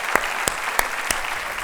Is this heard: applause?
yes